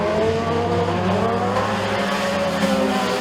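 Mini stock race cars run hard around the Freedom Motorsports Park track. Loud, continuous engine roar with revving pitch changes and tire noise carries through without a break.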